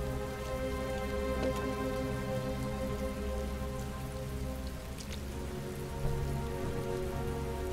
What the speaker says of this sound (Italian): Pioggia incessante, va avanti da settimane.